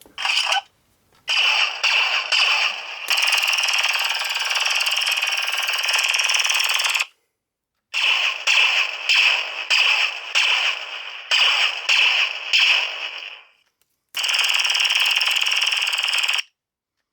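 A Ghostbusters proton pack startup sound effect played from an airsoft blaster sound board: a loud mechanical whirring power-up with rapid ratcheting pulses, building and sustaining in long bursts separated by short silences.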